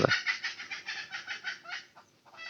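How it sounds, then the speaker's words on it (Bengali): A broody hen clucks nearby in a soft, regular string of short, evenly spaced clucks that briefly falter near the end before resuming, heard alone without talk. "এই মুরগিটা কিন্তু অনেকদিন যাবৎ কুইসা আসছে"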